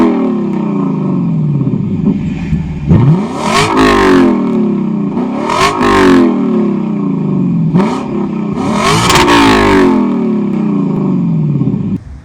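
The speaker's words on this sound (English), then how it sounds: "This is the V8, and it sounds great." Lexus LC 500 convertible's 5.0-liter V8 revved hard three times, each blip rising to a roaring peak and falling away, loud and close with a deep rumbling idle between revs.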